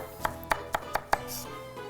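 Five quick knife chops hit a cutting board in an even rhythm as leeks are chopped, close up, followed by a short pause with faint background hum.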